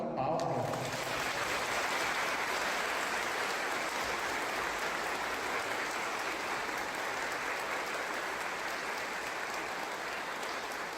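A church congregation at Sunday Mass applauds steadily, a dense even wash of many hands clapping that starts abruptly and continues for the whole stretch at moderate level, with no voices over it.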